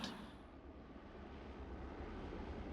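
A helicopter passes overhead at night, its blades and engine making a continuous, heavy, roaring drone with no pauses.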